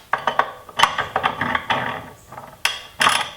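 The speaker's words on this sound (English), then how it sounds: "you're going to take the threaded handle, and you want to just put a little bit of grease on the end of there, and then we're going to thread it through" Threaded handle of a Sync Notcher 180 Jr. tubing notcher, greased at the tip, being screwed into the vise block, giving a run of close, irregular metallic clicks and scrapes that come in short bursts with brief pauses.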